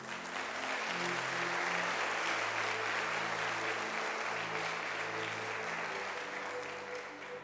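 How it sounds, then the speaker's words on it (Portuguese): A church congregation applauds during a worship service, with sustained, even crowd clapping lasting several seconds over soft instrumental music with low tones, fading slightly toward the end. "Vamos aplaudir Jesus, queridos."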